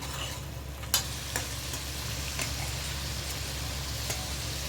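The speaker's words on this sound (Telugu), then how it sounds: "పచ్చివాసన పోయే వరకు కలుపుకోవాలండి" Masala mixed with coriander fries in a pan for a fish fry, a steady low sizzle under a few sharp spoon clicks against the pan, with no talking.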